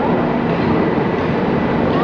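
The Pune Duronto Express rolls into Tatanagar Junction with a loud, continuous roar of wheels and rail noise heard from on board, unbroken for the whole moment.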